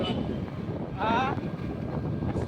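Strong storm wind buffets the microphone in a steady, loud, rough roar that lasts the whole stretch, with a brief gust swelling near the middle and voices faintly present.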